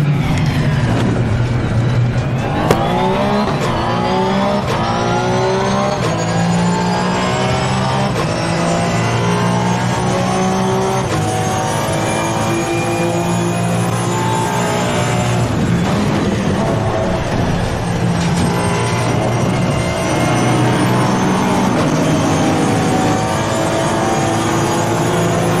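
A race car engine at Spa in Assetto Corsa Competizione roars continuously at high revs, pitch climbing through gears with brief dips at shifts, loud and close throughout with no talking.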